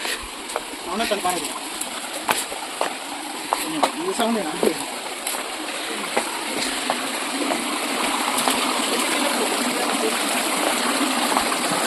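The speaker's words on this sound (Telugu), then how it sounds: "వాటర్ ఇక్కడి నుంచి ఇంక ఇట్లా వస్తున్నాయి" Water at Raikal waterfalls rushes steadily over rocks in a broad, continuous hiss that builds slightly louder toward the end, with people talking over it in the early part.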